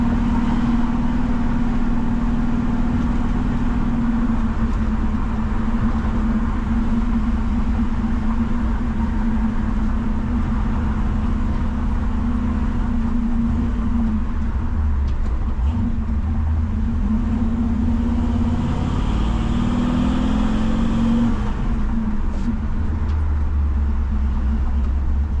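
A 1961 Ford F100 hot rod pickup drives along, a steady low engine drone with a pitch sweep midway as the gears shift, heard continuously from inside the cab.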